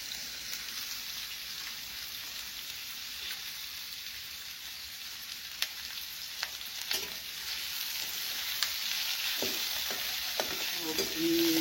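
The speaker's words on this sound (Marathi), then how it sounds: "कांदा परतावा लागतो." Onion sautés in a pan with a constant soft sizzling hiss, broken by occasional light scrapes and taps of stirring that grow slightly louder toward the end.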